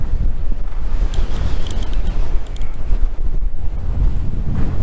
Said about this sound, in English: Look how the wind's blowing him.